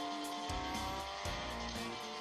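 Cars roar and race through a track in a mobile racing game, with engines revving continuously, tires squealing and skidding in bursts over a steady synthetic drone.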